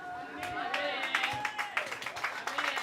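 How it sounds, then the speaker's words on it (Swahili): A handful of scattered hand claps from a church congregation, brief and fairly faint, mixed in with a preacher's voice speaking over them. "Nasikia makofi mawili tu."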